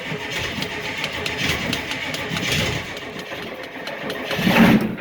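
Diesel engine cold starting after its glow plugs are cycled, cranking and catching into a rough, loud, steady running clatter close by, swelling briefly near the end.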